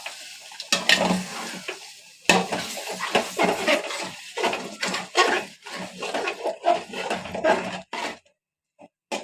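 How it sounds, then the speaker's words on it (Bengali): Chicken pilaf (morog polao) is stirred in a pot, with repeated scraping and clanking of a spoon against metal over a low sizzle, fairly loud and busy before trailing off at the end. "এখন এটা ভালোভাবে নাড়িয়ে নেব।"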